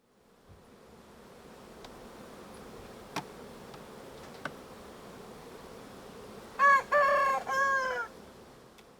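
Bees buzzing around hives in a back yard make a soft, steady hum, broken by a few sharp clicks, until a rooster crows loudly near the end.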